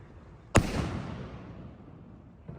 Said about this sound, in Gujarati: વાહ હારો ધડાકો થયો